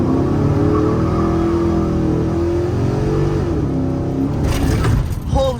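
A 450hp cammed truck with a freshly replaced header gasket pulls hard from 0 to 60, its loud engine rising in pitch through a long rev, then a gear change and a brief pause near the end.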